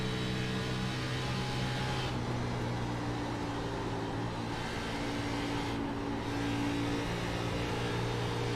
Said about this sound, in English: Adam Pettit there kind of feathering that throttle there a little bit